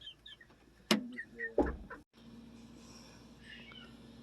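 A few Polish chickens near a feeder on a farm give short clucks and chirps, with two louder bursts close by, then a quiet stretch of low background hum.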